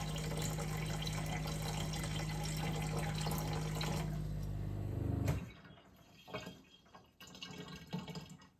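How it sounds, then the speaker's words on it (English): A tankless reverse osmosis system's booster pump hums steadily while water runs from a kitchen dispenser, then cuts off sharply, leaving faint drips and trickles in a quiet room. "You can hear it operating when dispensing water."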